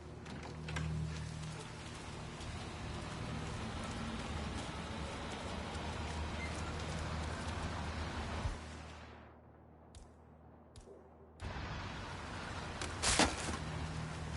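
Steady rain hiss in a video game scene, a constant close wash of falling water that cuts out briefly near the end before returning, with faint background sounds under it.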